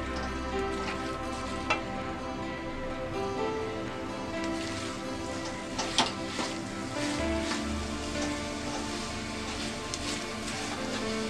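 Thattukada-style chicken masala with cut green chillies frying in a pan, a steady, moderate sizzle like light rain with a few sharp spoon clinks as it is stirred.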